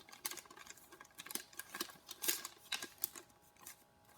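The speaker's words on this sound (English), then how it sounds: "I'll fold this over and reinforce the creases" Paper being folded into an origami winged shoe, with a run of soft, close crisp creasing and rubbing strokes in irregular bursts as the creases are pressed down firmly.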